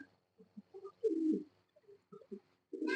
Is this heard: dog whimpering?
no